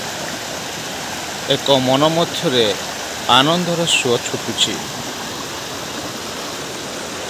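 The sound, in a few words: forest waterfall stream flowing down from the hills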